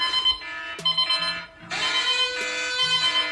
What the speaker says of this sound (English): At least I managed to turn off my alarms in my sleep.